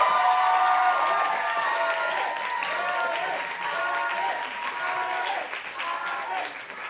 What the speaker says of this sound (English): I'd love to hear a fantastic round of applause for our candidates